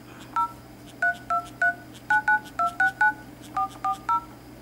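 Thirteen short keypad tones sound in an uneven rhythm as a number is dialed on a Sony Xperia Go phone. Each beep is close and distinct over a faint low hum, with no speech.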